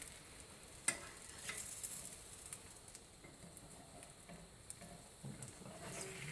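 Ebelskivers fry in butter in a pan with a faint, steady sizzle and a few light pops and taps, quiet and close.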